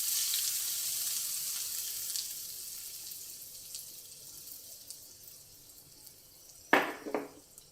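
Tempering for a ridge gourd peel and coconut chutney sizzles steadily in hot oil, a broad hiss that slowly fades before two sharp, louder spluttering bursts near the end as more goes into the pan.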